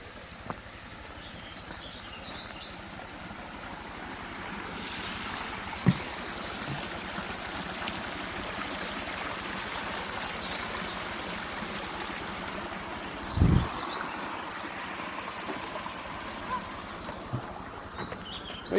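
A river flows steadily beside a campground at Castle Rock in Fremont Indian State Park, a soft, continuous rushing water sound at moderate distance, broken by a couple of brief knocks.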